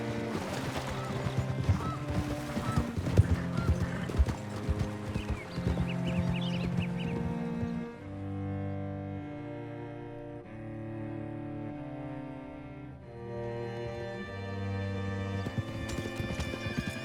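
Horse hooves clip-clop steadily with occasional neighing in the western video game Red Dead Redemption 2, mixed under a soft musical score.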